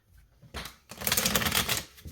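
Tarot cards shuffled by hand beside a lit candle, a papery riffling clatter that starts softly, then swells into a steady, dense run of close card flicks, alone without talk.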